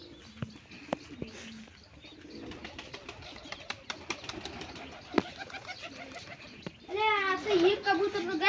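Pigeons coo and chirp near a home, soft calls scattered among clicks and bumps, with a voice talking at the end and children faintly in the background.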